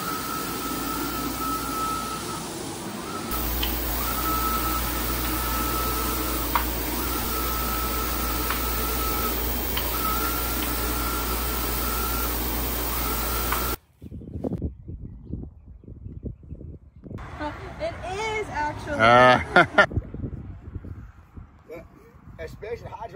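Several printing machines run in a print shop, giving a loud, steady mechanical drone with a repeating whine for about fourteen seconds, then stopping abruptly; afterwards come scattered knocks, clatter and a voice.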